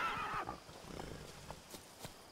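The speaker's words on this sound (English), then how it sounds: "Come on, horse." A horse neighs in The Witcher 3: Blood and Wine, a clear whinny at the start that fades, followed by a few soft hoof clops in the background.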